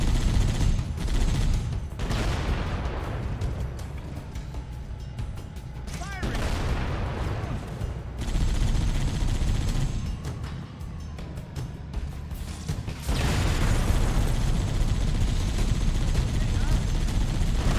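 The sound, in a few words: machine gun fire in Halo CE video game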